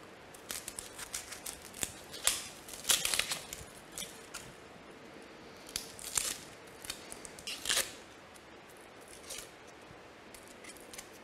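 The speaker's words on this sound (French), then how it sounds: "On va éplucher notre oignon le plus près de la racine." Onion being peeled close to the root, with dry crackling papery skin snaps and small crisp tears in irregular bursts, close and quiet with no talk.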